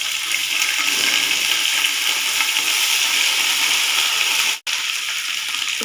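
Ginger garlic paste sizzles in hot oil in a cooking pot as a loud, steady, hissing fry that continues throughout, broken only by a brief dropout near the end.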